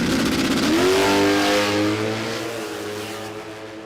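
Drag racing car with a Barra engine launching down the strip at a radial series meet, a loud sustained engine roar rising sharply in pitch as it accelerates away, then fading slightly with distance.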